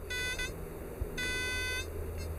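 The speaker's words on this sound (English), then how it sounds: "Here's my first signal that might be gold. It sounds off when I go in." A Falcon MD20 metal detector sweeping over gold-bearing bedrock sounds off with two high, steady electronic beeps on a target, a short one then a longer one, over low background rumble, with no talking.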